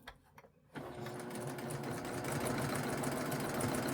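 A sewing machine stitches a hem on a cross-stitch finishing project, running in a steady, continuous mechanical whir after a brief quiet start, close and fairly loud with no talk.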